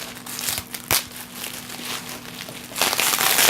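Scissors cut open a shrink-wrapped tabletop game box for Dark Mages, giving close, dry crinkling and crackling of plastic wrap with one sharp snip near the start and a louder rustling burst toward the end.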